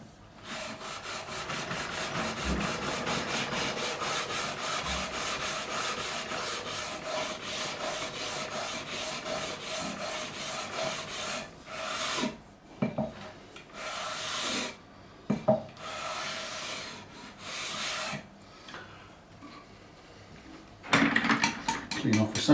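Steady dry rasping and rubbing of a sanding block on a rosewood guitar fretboard, continuous and close, then breaking into short bursts of scrubbing near the end.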